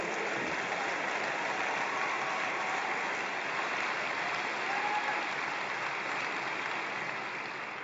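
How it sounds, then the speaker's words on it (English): Steady audience applause fills a large conference hall at an AIPAC gathering, a dense, even wash of clapping that holds at moderate level throughout with no voices over it. "Well, you can applaud Esther."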